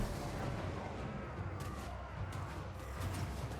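Cannon fire booms from a Total War: Warhammer 3 battle, including a flame cannon, as muffled, distant-sounding thuds and rumbles under a continuous low battlefield roar, fairly quiet overall.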